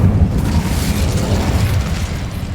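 Hogwarts Legacy's Incendio fire spell goes off as a loud, close, roaring blast that keeps booming steadily for a couple of seconds, with no voices.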